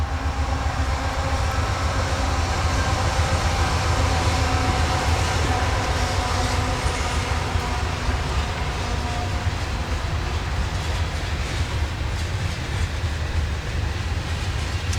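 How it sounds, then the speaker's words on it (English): A train rolls past on a railroad track right beside a house porch, a loud, continuous rumble and rattle of wagons with faint clickety-clack that holds steady throughout. "Looks like it's a train coming."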